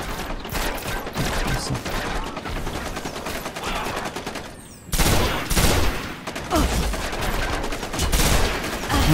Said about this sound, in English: Stop, stop, stop shooting at us